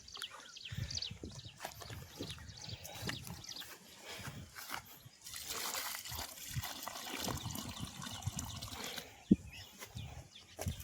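Water pours and trickles from a jerrycan onto newly planted Ashoka tree saplings in a farm field, a steady splashing flow that surges and eases close by, with scattered soft knocks.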